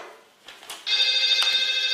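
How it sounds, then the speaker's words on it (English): A mobile phone goes off during a live acrylic abstract painting demonstration, starting abruptly after a quiet moment and ringing as a loud, steady electronic tone with a pulsing pattern, nearby and without talk over it. "there's another mobile phone going off"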